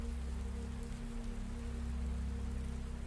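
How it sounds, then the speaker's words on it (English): Rain patters steadily against a roof at night, a continuous soft hiss of drops with a low droning hum underneath. "That soft patter against the roof, the whisper of water falling through darkness."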